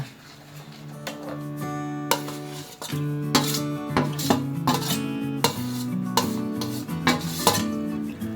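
A utensil clinks and scrapes against a bowl in repeated, uneven strokes as curry paste is mixed into minced chicken for Northern Thai sausage; no talking.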